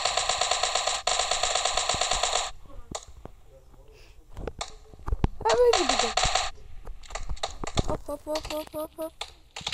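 Rapid bursts of Tommy gun fire in the PUBG battle royale game, several loud strings of repeated shots with pauses between, mixed with other game effects and occasional player chatter.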